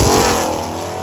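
A lifted TRX truck roars past at full throttle on a drag strip, a loud, brief, broadband rush that fades slightly as it passes.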